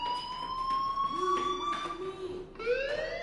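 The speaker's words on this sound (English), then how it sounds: "do you hear that fire alarm?" A fire alarm wails in a video game, with a steady electronic siren tone that holds and then sweeps upward, loud and continuous throughout.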